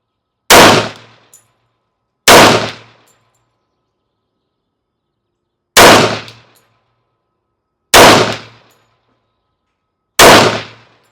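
FNX-45 Tactical pistol fired at a steel target outdoors: five loud, separate shots, each followed by a ringing metallic clang, spaced irregularly with silent gaps between them and no talking.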